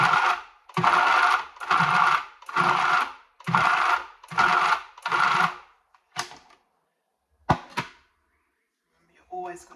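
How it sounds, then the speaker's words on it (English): An electric mixer is pulsed through lemon drizzle cake batter in seven evenly spaced whirring bursts of about half a second each, loud and close, followed by a few sparse clunks and bumps. "we're just going to pulse it. We're not going to just leave the mixer running."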